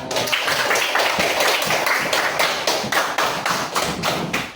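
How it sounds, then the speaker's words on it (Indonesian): Classroom applause after a seventh-grade presentation: a small group of students clapping in loud, close, fairly synchronized beats that hold steady throughout. "Tepuk tangan."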